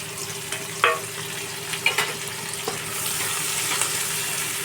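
Chopped onions sizzle in hot oil with black cumin and green chillies over medium heat: a constant frying hiss with a few sharp stirring clicks, close and clear.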